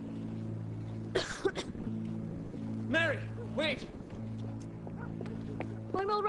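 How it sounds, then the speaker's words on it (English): A sick young woman in an Irish mill-town drama coughs in a few short, harsh bursts over a steady low hum, with dialogue around them. "'Tis a simple cough."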